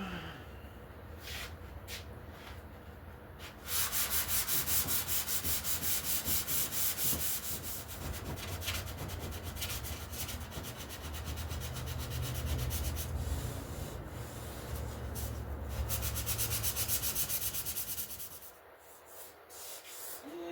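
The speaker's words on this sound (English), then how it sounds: "So right now I'm sanding it down with, I think this is a 220 pad." Steady, close scratchy rubbing of a 220-grit sanding pad on a shaved Chevrolet S10 bumper, running continuously with rhythmic back-and-forth strokes and brief pauses.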